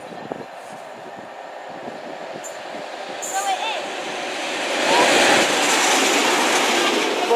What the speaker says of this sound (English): passing through now is another HST. It's going a bit faster.